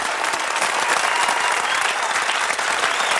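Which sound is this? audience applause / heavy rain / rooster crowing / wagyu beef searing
audience applause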